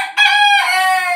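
A rooster crows once, loud and close, a single sustained bright harmonic call running through the whole stretch with no voices.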